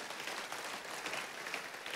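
Church congregation clapping together in response to a pastor's call during a sermon, a steady dense wash of hands held at an even level throughout the short stretch.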